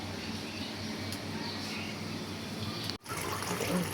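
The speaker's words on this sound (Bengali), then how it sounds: "শাকগুলো ধুয়ে দিতেছি" Leafy greens being washed in water, a continuous close splashing and trickling wash that pauses briefly, then resumes with slightly brighter sloshing, no talk.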